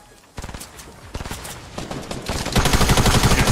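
Rapid gunfire from a Fortnite match, a sniper shot among it, crackles in dense bursts that build into near-continuous loud automatic fire by the end, with a faint voice barely present.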